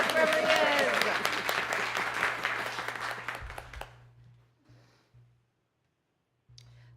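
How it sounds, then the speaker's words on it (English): A Sunday service congregation claps loudly in a sustained round of applause that thins and fades out over a few seconds, with voices mixed in at the start and a low electrical hum underneath. "Clap loud enough that he can hear us wherever he is."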